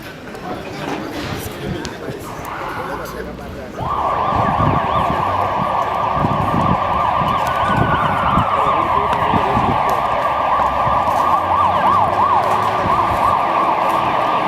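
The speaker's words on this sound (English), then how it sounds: "very shortly we shall see the 2 fire engines come into the yard." Harare fire brigade fire engines, including a Dennis appliance, and an ambulance arrive with sirens, a steady wailing tone swelling in loud from about four seconds over rumbling engines and background noise.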